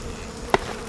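Wasps buzz in a low drone close by as smoke rises through their nest, with two short sharp clicks or taps cutting through.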